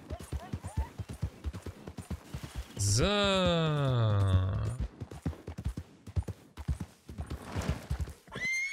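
Horse neighing loudly in Red Dead Redemption 2, a long whinny rising and falling over about two seconds, set among steady clip-clop hooves with someone talking before and after.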